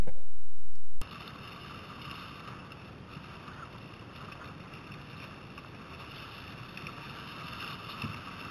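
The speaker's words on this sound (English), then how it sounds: "Sailing on a broad reach for our first big turning point" Sailboat running on a broad reach near Hay Beach Point around Shelter Island, with a steady rush of water along the hull and wind noise on the microphone throughout, after a brief louder burst at the very start.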